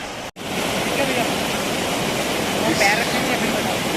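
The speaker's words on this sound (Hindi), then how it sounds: "अब ये पार्वती झरना है" Parvati waterfall on the Shrikhand Kailash trek, a steady loud broadband roar of rushing water close by, briefly cut at the start and then continuous and unchanging.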